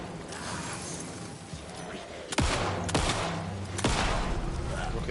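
Gunshots in the video game Alan Wake 2, three sharp loud shots spaced about a second apart over a low noisy game background.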